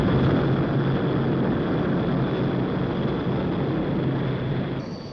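HS-125 business jet aircraft, a loud sustained roaring rush with a steady whine, constant throughout and easing slightly at the end, no voices.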